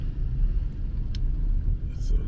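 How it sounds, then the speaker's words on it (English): Road traffic rolls along Flatbush Avenue in Brooklyn, heard as a steady low rumble of passing cars with no clear individual vehicles, and a brief click partway through. "And now we're looking at the traffic now."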